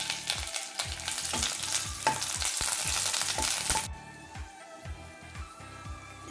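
Cloves, cinnamon, lemongrass and curry leaves fry in a pan for devilled beef, crackling and sizzling under frequent close, rhythmic stirring clicks before the sizzle drops to a quieter, softer level.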